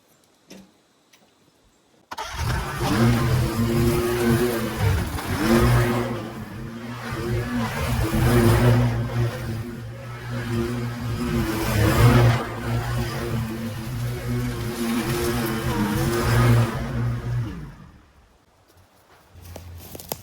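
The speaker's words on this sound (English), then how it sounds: "I'm going to go ahead and mow this and we're going to take off that way" A mower engine drones steadily for about fifteen seconds while cutting through tall weeds, with a constant throbbing hum that starts abruptly and fades out near the end.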